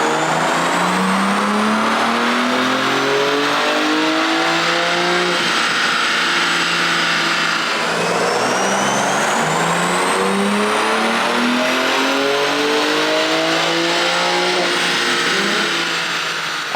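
A tuned BMW M2 with the S58 engine revs hard on a dyno in two long, loud climbing pulls, its note rising steadily through the gears, with a short shift dip between them and no talking.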